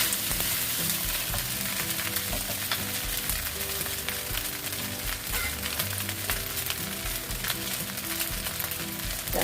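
Fried rice is stir-fried in a hot pan with spring onions being added, giving a continuous loud sizzle and crackle with occasional scraping stirs, close up and without talk.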